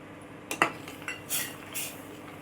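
A spoon stirring sugar into hot milk with cardamom powder, heard as a few sparse, light metallic clinks and taps against the vessel, fairly quiet and close, with no voices.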